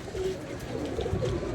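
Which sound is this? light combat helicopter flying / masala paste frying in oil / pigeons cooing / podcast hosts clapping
pigeons cooing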